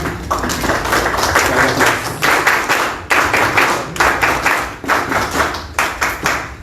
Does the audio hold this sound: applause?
yes